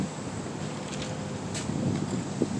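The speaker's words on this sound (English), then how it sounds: "Wow, it's windy out here." Steady wind buffeting the microphone, a continuous low rumble with occasional gusts, heard outdoors with no one speaking.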